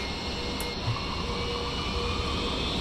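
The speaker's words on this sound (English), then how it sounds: "See if we can hear the whoosh." An MD-80 jet engine spooling up during start in a flight simulator game, a steady, broad whooshing roar with a thin whine above it, continuous and fairly loud, with no talk.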